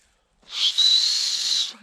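A single sustained high-pitched whistle blast, steady and fairly loud, lasting over a second with no talking.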